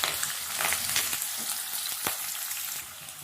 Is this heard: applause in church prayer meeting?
no